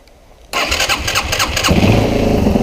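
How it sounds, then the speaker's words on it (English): A Yamaha XT225 motorcycle engine cranks and catches with the choke on, jumping from quiet to a loud, steady single-cylinder running note that settles into a rough idle close by. "Let's see if she fires up. Chokey on."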